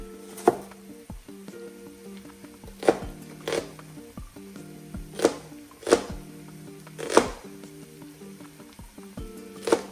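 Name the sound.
chopping onions finely with a knife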